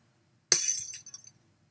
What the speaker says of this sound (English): And then the glass break.